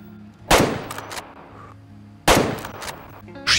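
Two sharp rifle shots fired at a badger in the hunting video game Way of the Hunter, each a loud close crack with a short echoing tail, spaced about two seconds apart, and a third blast just beginning at the end.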